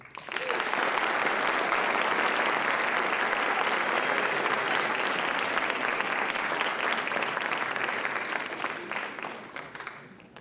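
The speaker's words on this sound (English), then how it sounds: "Can we give him another round of applause?" Sustained audience applause at a writers expo poetry reading fills the room loudly and steadily for about ten seconds, then begins to taper at the end.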